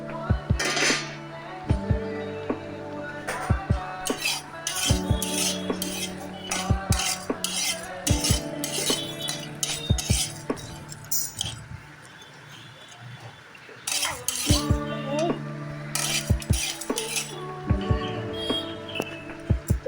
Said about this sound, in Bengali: এটা শুকনো খোলায় ভেজে নেব